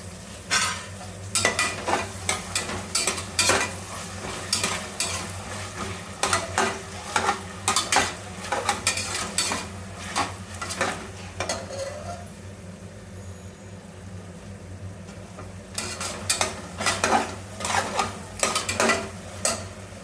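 Ginger garlic paste frying in a pan as a spoon stirs it, with bursts of scraping and clinking strokes over a steady sizzle and a pause partway through, for a meal maker kushka.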